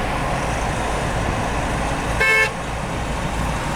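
A single short car horn honk on a busy New Orleans road, about a quarter second long, standing out over steady traffic rumble and road noise.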